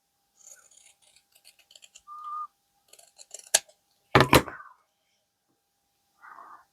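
Scissors snip through paper scraps in a quiet room, a series of short crisp cuts with a few sharper clicks and a louder double snip near the end.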